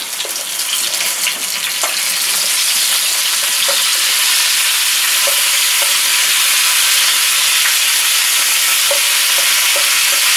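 Ingredients for sweet and sour chicken fry in a pan, a loud, close, continuous sizzle with occasional stirring clicks and scrapes throughout.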